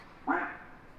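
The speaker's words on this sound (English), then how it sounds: "Quack." A single short duck-quack car lock chime, fairly close and clear, followed by quiet.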